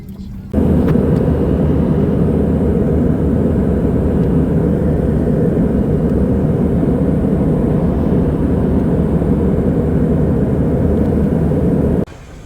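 Steady, loud engine drone fills a passenger airplane cabin in flight toward Columbus, a constant roar running almost unbroken from start to finish.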